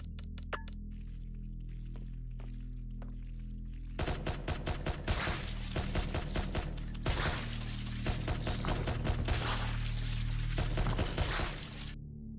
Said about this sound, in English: There goes all the SMG ammo.